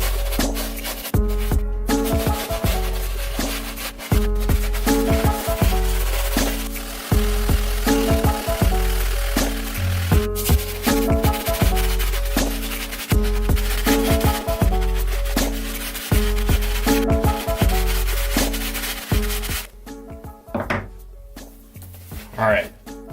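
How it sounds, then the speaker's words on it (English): Brush bristles scrub deep dirt stains out of muddy Adidas Ultra Boost sneakers in rhythmic back-and-forth strokes, close and repeated with short pauses between bursts. "This can take a while, scrubbing out some of these deep dirt stains"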